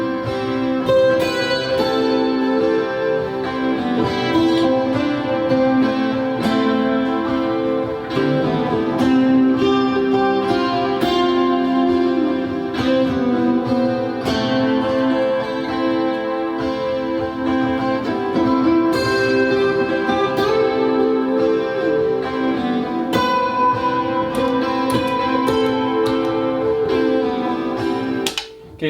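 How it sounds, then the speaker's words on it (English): Electric guitar run through Friedman Golden, Starlight and Astra pedals plays a continuous, dense effected passage with layered tones, loud and steady, no talking. "what you just heard was the Golden, the Starlight, and the Astra"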